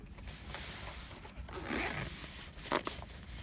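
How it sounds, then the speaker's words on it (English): A zipper is worked closed around a tightly packed travel makeup bag, giving soft scraping and rasping pulls in short bursts, fairly quiet and close, with a sharper tug near the end. "Now let's see if we can actually get it to zip."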